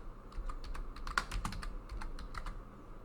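Code typed on a computer keyboard, with quick close key clicks in uneven bursts and a few heavier strokes, fairly quiet and with no talk.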